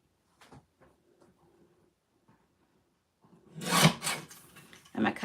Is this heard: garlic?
no